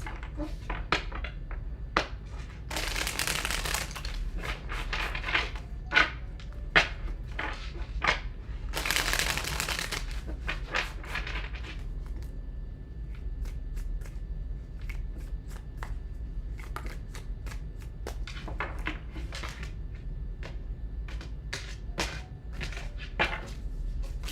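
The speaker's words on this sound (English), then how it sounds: "Two more shuffles." Tarot cards being shuffled, two bursts of fast riffling amid scattered soft taps and clicks of cards handled on a table, fairly quiet with no talk.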